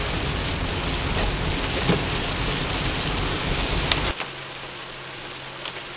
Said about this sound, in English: Almost 1 a.m. Heavy rain.